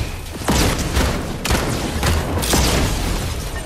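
Wookiee blaster shots in Fortnite's Star Wars update, a few heavy booming blasts about a second apart over dense, continuous game noise.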